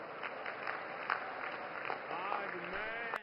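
A large crowd at an outdoor election rally in Betul, Madhya Pradesh claps in a steady, dense burst of applause, with a voice over a loudspeaker speaking faintly above it.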